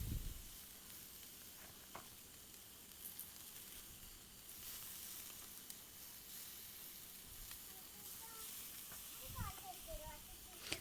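Chicken coated in green masala sizzles over hot charcoal, a faint steady crackle and hiss with brief louder pops, under occasional soft speech.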